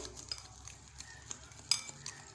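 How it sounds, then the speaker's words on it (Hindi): Cream being whisked with sugar, salt and black pepper in a bowl for a fruit chaat dressing, quiet rhythmic scraping and light clinks of utensil on the bowl, close and soft, with no speech. "इसको अच्छी तरह फेंट लें"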